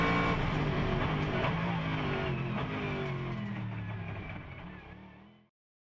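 A GT Open race car at full throttle on a lap of Spa-Francorchamps, heard onboard as a loud sustained engine roar climbing through the revs before it abruptly fades away.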